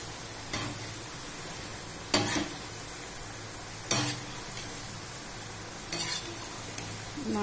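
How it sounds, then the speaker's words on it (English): Sabudana khichdi sizzles steadily in a pan while a spoon stirs it, with a few sharper scrapes against the metal spaced every couple of seconds; close and moderately loud, no voices. "Keep stirring so that they don't stick to each other."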